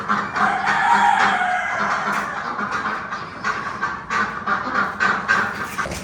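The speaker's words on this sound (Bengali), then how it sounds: "হাঁসগুলো এখন খাবার খাবে খাবার খাওয়ার জন্য ওরা কান্নাকাটি করতেছে" A flock of Pekin ducks waiting to be fed calls out in overlapping, nasal quacks and cries, steady and fairly close, with the chorus rising and falling in bursts.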